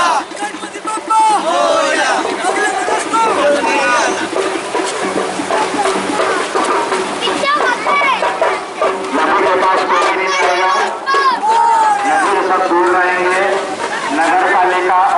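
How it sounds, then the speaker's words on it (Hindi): A dense crowd at a Ganesh idol immersion on the Chambal riverbank, many voices shouting and chanting together loudly and continuously, close and busy throughout. "गणेश विसर्जन के दौरान भीड़ उमड़ पड़ी"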